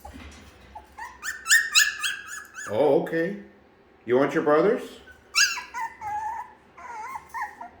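A week-old tri-colored puppy girl lets out high, squeaky whimpers and thin yelping barks in several short, close bursts, while someone speaks softly between them.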